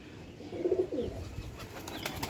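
A pigeon gives a few low, throaty coos up close, quietly, on a rainy-season day, followed by faint rustling and light background noise.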